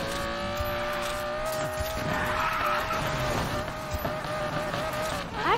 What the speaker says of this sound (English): today I'm not shifting, I'm drifting automatically